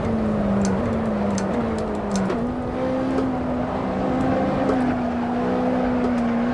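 A McLaren race car in Assetto Corsa screams along a straight at speed, its engine droning loud and close as it climbs through the rev range, with a brief dip at each gearshift.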